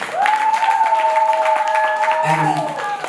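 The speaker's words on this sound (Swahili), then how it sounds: "Jipigieni makofi." A church congregation applauds during a fundraising service, dense continuous clapping throughout with a held melodic tone and voice layered above it.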